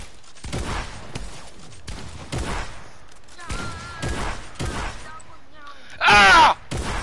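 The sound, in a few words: shotgun fire in the video game Fortnite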